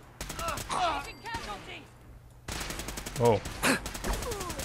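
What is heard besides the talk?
gunfire from the video game Fallout 4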